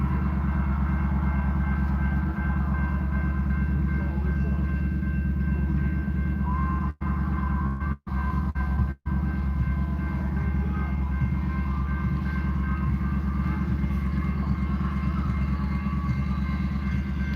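A very long train rolls steadily past at close range, a continuous loud rumble and rattle of railcars that runs throughout without a break, apart from a couple of momentary dropouts.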